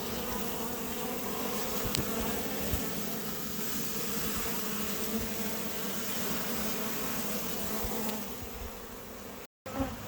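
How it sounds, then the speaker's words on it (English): Thousands of bees from a three-year-old hive in the roof of a residential home swarm around, filling the air with a dense, continuous buzzing hum up close, with no voices. "See all those bees?"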